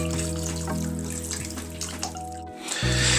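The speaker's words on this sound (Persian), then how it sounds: "حالا اینقدر بهش آب اضافه میکنم، آب ولرم، تا بیاد روی خورشتمو بگیره." Warm water is poured into a pan of okra stew, a close, loud splashing pour that briefly cuts out and then resumes, heard over a steady low hum from the kitchen.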